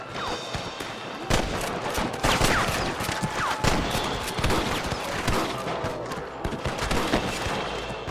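A Red Dead Redemption shootout with rustlers: a dense, continuous fusillade of rapid gunshots and cracks, loud and close, running the whole time without a break and with no voices.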